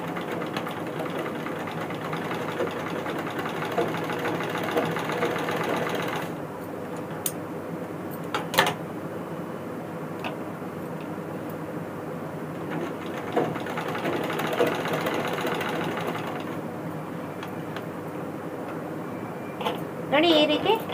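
A tailoring sewing machine runs in steady whirring bursts while stitching piping onto a square neckline. The near hum is interrupted by pauses and clicks, and a voice talks over it at intervals.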